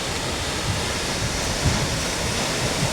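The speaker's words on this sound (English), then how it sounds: "I'm approaching the bottom of this waterfall." Thundering rainforest waterfall at Killarney, Queensland, heard from near its base as a dense, steady roar of falling water, loud and constant with no voices.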